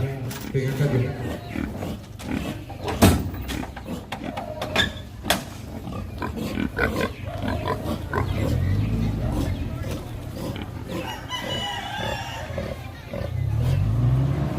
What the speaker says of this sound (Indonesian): babi yang akan dipotong hari ini sekitar 23 ekor pemirsa